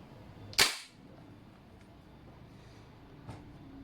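A VFC Knights Armament SR-16 E3 MOD2 M-LOK CQB airsoft gas blowback rifle fires one loud, sharp shot near the start, followed by a fainter click a few seconds later over quiet room noise.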